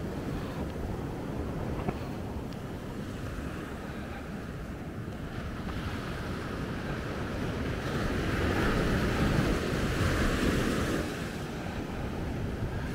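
Rough surf breaking along the Gran Canaria coast near Maspalomas, a steady broadband roar of waves with wind buffeting the microphone, swelling louder for a few seconds midway before easing back.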